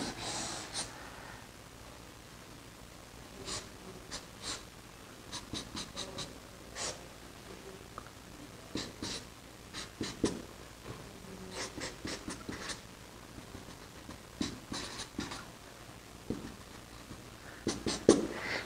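A pen draws a chemical structure on paper by hand, giving soft, irregular scratches and taps in short clusters, faint and close, with no talk.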